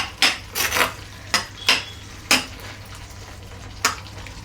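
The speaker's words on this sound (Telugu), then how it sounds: "రెండు నిమిషాలు ఇలా కలిపేసి" A spoon stirs a sago mixture in a pan, making about seven irregular, sharp scraping clinks against the metal over a quiet background.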